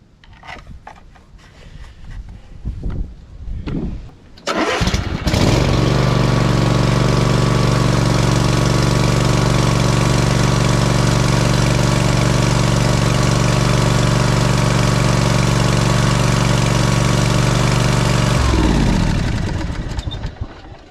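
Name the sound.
Cub Cadet zero turn riding mower engine starting and idling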